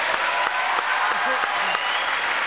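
Studio audience applause on a French TV talk show, a dense, steady wash of clapping filling the whole stretch, with brief voices faintly audible beneath it.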